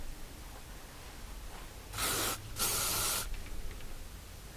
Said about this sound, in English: And if I'm going to leave the back down, I'll spray the back as well.